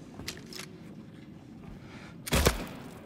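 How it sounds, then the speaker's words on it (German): A single gunshot in the video game Silent Hill 2 Remake, a sharp broadband crack late in the clip, standing out against a quiet, low ambient background. "Ging der Schuss durch, oder?"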